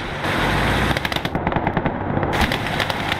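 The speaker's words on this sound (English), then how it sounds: "I think there's an MG or something back there." Machine gun fire in the World War II game Gates of Hell: Ostfront, with loud rapid bursts of automatic gunfire and sharp cracking shots stacked over a dense battle din.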